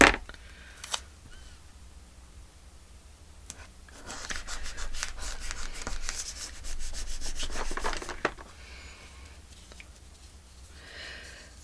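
Washi tape is pulled and handled at a craft table, giving a quiet, scratchy rubbing and peeling sound that swells for a few seconds midway before fading back to near silence.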